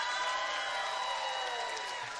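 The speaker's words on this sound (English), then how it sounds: "So let's practice our applause." An audience in a Christmas special crowd practises its applause on cue, a broad wash of clapping and crowd noise that swells, holds steady, then slowly tapers over a faint tonal background.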